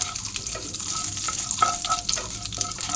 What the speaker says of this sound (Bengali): এবার কড়াইয়ে তেল দিয়ে দিয়েছি। বাটাটা করার তেলের মধ্যে একটু বেশি করেই কালো জিরে দেবো।